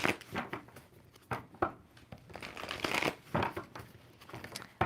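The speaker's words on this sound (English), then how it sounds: "2 more shuffles." Quiet, crisp shuffling of tarot cards, repeated riffles and soft slaps close by, with no talking.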